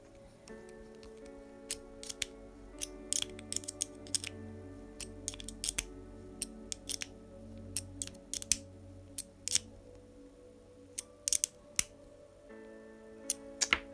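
A box wrench turns a small screw into the steering linkage of a Tamiya Karmann Ghia model on an M-06 chassis, giving faint, irregular metallic clicks and ticks over a steady low hum; no talking.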